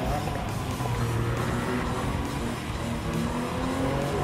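A Lamborghini race car in Gran Turismo 7 runs flat out through first and second gear, its engine roaring loud and steady with tyre noise and shifting pitch, unbroken for the whole stretch.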